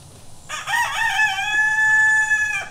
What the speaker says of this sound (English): That's the good crowing rooster right there.